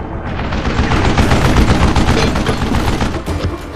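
Gunfire in the game Call of Juarez Gunslinger: loud, continuous rapid shots crackle and overlap into a dense barrage that lasts throughout, with no voices.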